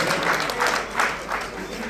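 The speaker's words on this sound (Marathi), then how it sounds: "एकदा सर्वांनी टाळ्या वाजवा यासाठी" Audience clapping at a felicitation ceremony for a community gathering, steady applause swelling in soft waves, moderately loud with a faint murmur of voices underneath.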